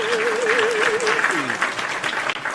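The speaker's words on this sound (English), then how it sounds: "Round of applause, chat, for MJ from MJ." Steady applause and clapping from a crowd, with a whistle-like warbling tone and a voice briefly heard over it.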